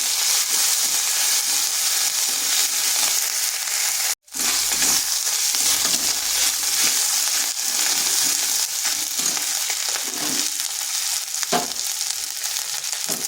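Ginger and fennel spice paste drops into hot oil with whole cumin, cardamom and cinnamon, a loud, dense and continuous sizzle up close, cut by one brief gap and followed by scattered crackles and stirring, with no talk.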